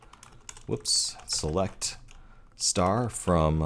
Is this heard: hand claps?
no